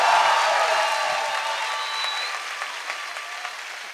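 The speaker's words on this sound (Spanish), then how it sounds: "¡Fuerte el aplauso!" An audience at a stand-up comedy show applauds, a loud burst of clapping from a crowd that gradually thins and fades over a few seconds.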